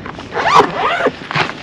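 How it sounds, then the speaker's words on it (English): A zipper is pulled closed on a bag for an RV trailer, giving two quick rasping zips close by, the second shorter than the first, with no talking. "It zips on either side."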